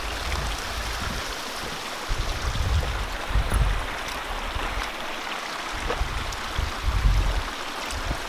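Water from a stream flowing through a spruce-shaded canyon on a hot summer hike, a steady broadband rush with a few low thumps of movement nearby, no talking.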